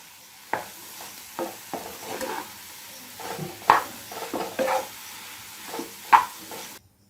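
Potato filling for vada pav being sautéed and stirred in a pan, with a spatula scraping and tapping in irregular close strokes over a faint sizzle.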